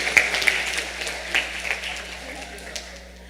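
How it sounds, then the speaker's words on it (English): Scattered applause after a youth group's performance at a Christmas concert, a few distinct claps over a steady hum, fading as it goes. "another round of applause for that lovely rendition by the Blue Star Youths"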